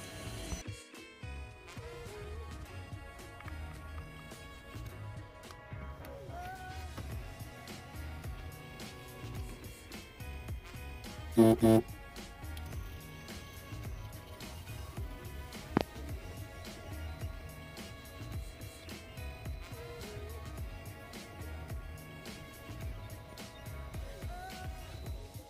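A 3D printer prints a miniature Mitsubishi Canter truck in PLA plastic, giving off a steady, quiet whirring hum of tonal motor whines, with a brief louder burst partway through.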